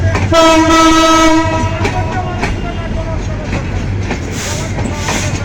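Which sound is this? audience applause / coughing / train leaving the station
train leaving the station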